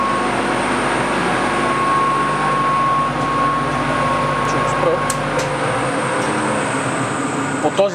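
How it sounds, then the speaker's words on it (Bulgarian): Forced start of the second traction-motor cooling fan on an electric locomotive, a steady loud whooshing roar of moving air with a faint tonal whine running through it, continuous for the whole stretch. "Аз в момента ще ви покажа примерно принудително пускане, да кажем, на втори вентилатор за охлаждане на тяговия двигател"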